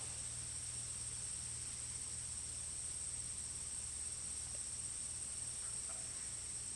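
Crickets chirp outdoors in a faint, continuous high-pitched chorus that holds steady throughout over a soft low hum, with no talking.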